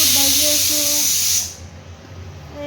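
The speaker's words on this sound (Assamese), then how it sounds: "বুট ভাজি আছোঁ।" Chickpeas frying in a pan give a loud, bright hiss that runs steadily and then drops away abruptly partway through, leaving a quieter background with a faint voice.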